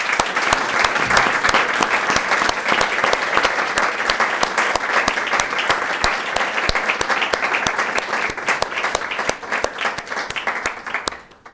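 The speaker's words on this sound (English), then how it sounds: "Please give a round of applause." Sustained, dense applause from a seated audience after a panel discussion, steady and loud for about eleven seconds before tapering off at the end, with no talk over it.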